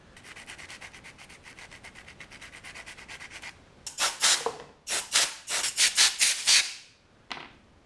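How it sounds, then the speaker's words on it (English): Sandpaper in grits from 240 to 600 rubs over 3D-printed grenade parts, first in quick, soft, even strokes, then in louder, longer rasping passes with short pauses between. "First, I sanded up most of the bits, starting with 240 grit going all the way up to 600."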